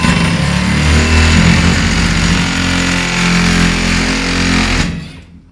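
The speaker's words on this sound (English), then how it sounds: "It's not mechanically safe, as you can tell, just by the sound that it's making." A Stryker stretcher lift, bought secondhand and mechanically faulty, runs with a loud, steady grinding whine and rattling buzz for about five seconds before cutting off.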